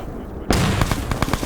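In a large multiplayer military shooter game, a sudden loud grenade blast bursts out, followed by a quick scatter of sharp cracks and pops close by.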